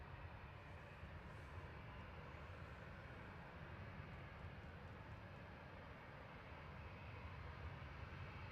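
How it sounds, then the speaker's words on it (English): A Cathay Pacific Boeing 777-300ER airliner, flight 259 from Hong Kong, arrives at Manchester Airport. Its engine roar is steady and broadband, holding evenly throughout at a moderate distance, with no talk. "Cathay Pacific 259 coming in from Hong Kong now"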